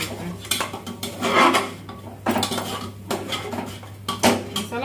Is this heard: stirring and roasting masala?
yes